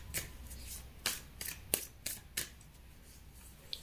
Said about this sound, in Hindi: पहले 2 कार्ड आपके लिए निकालेंगे, फिर 2 कार्ड थर्ड पार्टी के लिए निकालेंगे